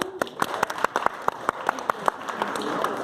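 A group of students clapping at a school gathering, producing a string of sharp, distinct claps in a loose, roughly regular rhythm, loud and close.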